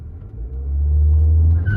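A VW Tiguan 250 TSI with the 1.4 engine pulls away hard from a standstill with the air conditioning on, its engine note swelling into a loud, close, steady rumble as it accelerates.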